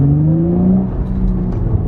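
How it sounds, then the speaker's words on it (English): Deep exhaust note of a Nissan G35 accelerating, a smooth rising drone heard from inside the car, steady and fairly loud with no talking. "I also like the way this exhaust sounds"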